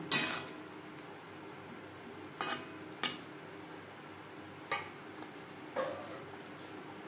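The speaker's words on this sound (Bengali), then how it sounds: "গাঁটি কচুর সাথে বেশ ভালো করে মিক্সড করে দেবো। আর দিয়ে দেবো মশলা ধোয়া জল" Taro is stirred in a pan with spice-rinse water, giving a soft steady scraping and sizzle with a few sharp utensil clacks against the pan spread across the stretch.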